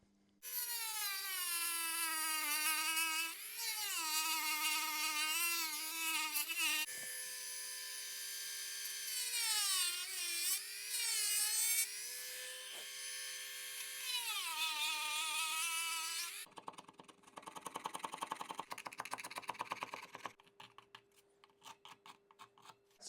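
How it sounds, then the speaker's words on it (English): A Dremel rotary tool whines at a high pitch while trimming a guitar part, its tone rising and falling under changing load, then stops and gives way to scratchy rubbing at the end. "Let's just do this with the Dremel."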